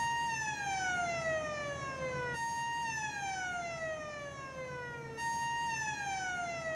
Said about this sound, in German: Am Hochofen ertönt die Sirene.